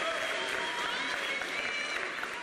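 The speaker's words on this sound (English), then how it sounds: "And a big cheer there from Ekaterina Bolotova." Crowd at a badminton match between Bulgaria and Russia at the Baku 2015 games, cheering and clapping in a steady, loud wash of noise that fills the short moment without letting up.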